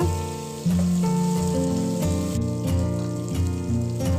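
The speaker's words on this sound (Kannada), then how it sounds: "ಇವಾಗ ಕ್ಯಾಪ್ಸಿಕಮ್ ಹಾಕ್ತಾಯಿದ್ದೀನಿ ಕ್ಯಾಪ್ಸಿಕಮು ಸ್ವಲ್ಪ ಫ್ರೈ ಆಗಲಿ" Capsicum fries with onions in a pan for Mysore-style bisi bele bath, a soft crackling sizzle that starts abruptly and is partly covered by prominent background music.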